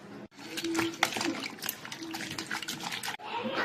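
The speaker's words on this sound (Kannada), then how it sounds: "ಇದನ್ನ ಸ್ವಲ್ಪ ಅರಿಶಿಣ ಮತ್ತೆ ಉಪ್ಪು ನೀರಲ್ಲಿ ತೊಳ್ಕೊಂಬಿಡೋಣ" Sweet potato pieces washed by hand in turmeric and salt water, with close sloshing and splashing over a few seconds.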